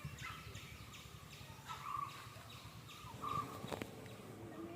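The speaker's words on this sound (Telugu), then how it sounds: "ఇక్కడ బర్డ్స్ది సౌండ్ తప్ప ఏ వాయిస్ లేదు." Birds call on a cold hillside farm in Munnar, Kerala: several faint, thin chirps repeat over a quiet background, with a couple of slightly louder calls toward the end and no voices.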